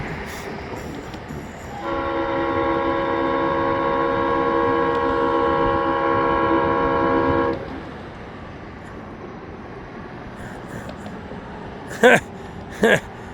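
A locomotive at a rail crossing in Saint Augustine sounds a steady, fairly loud horn for about six seconds over background rumble, followed by quiet ambience and two short sharp knocks near the end.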